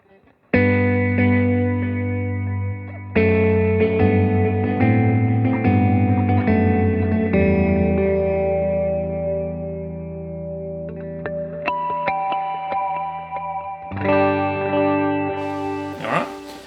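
Electric guitar run through a Line 6 Helix worship patch with stock-style cab tones: sustained, heavily effected chords and notes with chorus, echo and long reverb tails, played loud and close with a few strummed attacks.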